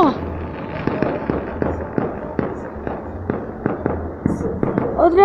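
Fireworks go off at a castle-burning festival in San Miguel Ameyalco. Sharp bangs and crackling bursts arrive at a fairly steady rhythm, loud and somewhat distant, with people talking and reacting over them.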